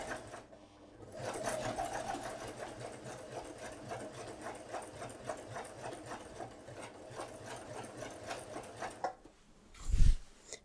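A sewing machine stitches a shirred summer dress. A steady, rapid mechanical rattle runs for about eight seconds, followed by a short thump as it stops.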